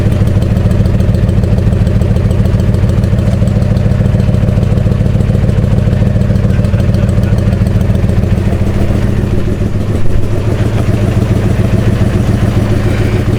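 A 1984 Honda Sabre VF1100 V65 motorcycle idles close by after a carburetor rebuild, its V4 engine a loud, steady, throbbing rumble with fine mechanical clatter, briefly dipping and surging once near the end.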